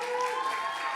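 A brief burst of audience applause fills a room at a startup pitch competition semi-final, a dense, steady wash of clapping with no pauses.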